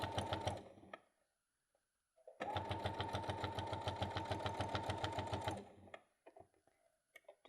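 Sewing machine stitching down one side of a small bag strap, a short burst then a longer steady run of rapid rhythmic needle thumping, close and clear, with faint handling noises between runs.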